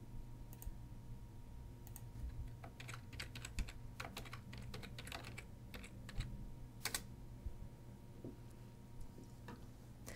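Computer keyboard typing as a username and password are entered: quiet, irregular bursts of key clicks throughout, close and alone, with no voices.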